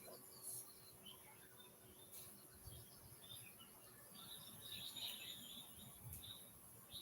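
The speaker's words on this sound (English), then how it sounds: "I hear the birds singing in the background." Birdsong and chirping insects outdoors in the countryside, with scattered high chirps and tweets above a steady hum of background noise, fairly faint and continuous.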